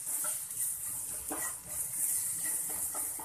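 Salt, coriander powder, red chili powder, garam masala and cumin roast in a hot pan, giving a steady, close hiss and sizzle with faint stirring scrapes.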